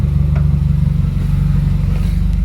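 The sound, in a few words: Subaru WRX FA20DIT engine misfiring on cylinder 3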